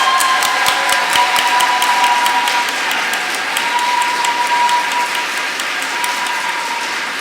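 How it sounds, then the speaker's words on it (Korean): A large audience at a Catholic reading concert claps loudly and continuously to welcome a professor to the stage, with sustained full applause and no talk over it. "자, 그럼 우리 고종희 교수님 큰 박수로 모시도록 하겠습니다."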